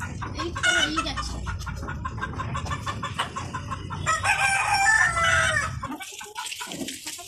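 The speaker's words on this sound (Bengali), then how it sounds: "হাই, এই যে মুরগি।" Hens clucking and a rooster crowing close by in a backyard coop, a loud busy stretch of repeated calls with a brief human voice partly mixed in.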